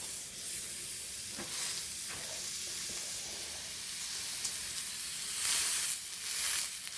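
Salted mackerel fries without oil on banana leaves in a pan, giving a soft, steady sizzle and hiss. Occasional faint scraping or stirring taps sound through the quiet background.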